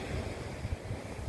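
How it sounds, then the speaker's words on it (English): Sea surf rolls steadily onto Pakefield beach in Suffolk, a dense continuous wash mixed with wind rumble across the microphone, with no talking. "And this is the sea."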